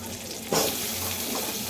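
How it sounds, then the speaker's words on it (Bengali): Potatoes fry in hot oil in a wok, a close, steady sizzle that swells briefly as they are stirred, with no voices. "কড়াই আলুগুলো ভেজে নেব"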